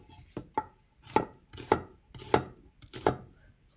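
A knife chops vegetables roughly for broth on a cutting board, six distinct close, crisp thuds in an uneven rhythm with quiet pauses between them.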